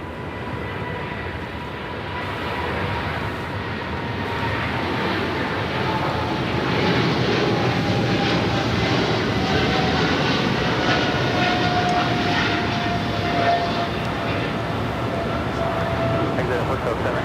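An Eva Air Cargo Boeing 777 freighter taking off from runway 25 right at LAX, a broad, steady jet engine roar that builds slightly and holds loud and continuous throughout.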